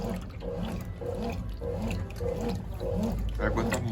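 Water churning and sloshing inside a Brastemp Clean 10kg washing machine on its soak stage, a steady watery wash with rhythmic swirling surges, fairly close and continuous with no talk.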